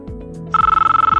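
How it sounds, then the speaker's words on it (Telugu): Electronic telephone ring heard when calling an M-powerpro unit fitted with an MK1DOL, a steady pulsing warble that starts partway in and repeats loudly and evenly to the end, with low hum beneath. "ఈ యూనిట్ మీ కాల్ని ఒక రింగ్ తర్వాత కట్ చేస్తుంది."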